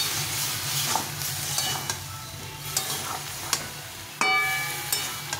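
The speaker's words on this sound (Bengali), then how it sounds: "এখন আমি এটাকে ভালো করে নেড়ে চেড়ে ঢাকা দিয়ে দেবো সেদ্ধ হওয়ার জন্য" A vegetable curry being stirred in a pan, with a steady close sizzle of frying and scattered light scrapes and taps of the spoon against the pan, one sharper clink near the end, no talking.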